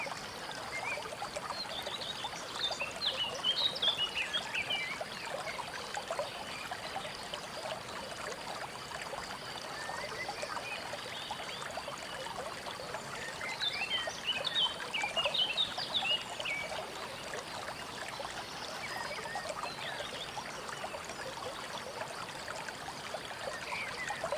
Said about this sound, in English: Well, the water wheel is already done.